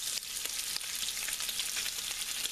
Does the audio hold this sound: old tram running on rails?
no